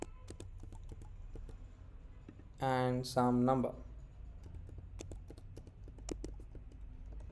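A computer keyboard is typed on steadily as fields of a mobile app registration form are filled in, with quiet clicks running throughout and someone speaking briefly in the middle.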